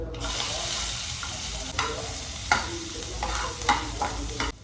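Cut onions with cloves, cardamom and cinnamon frying in hot oil with mustard and cumin seeds for a dhaba-style cashew paneer masala; a steady close sizzle with a few sharp stirring scrapes, no voices.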